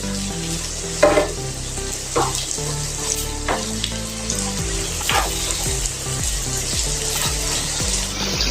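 A rice flour snack fries in oil in a pan over medium heat, a steady close sizzle with occasional stirring and scraping clinks as pieces are turned, no talking.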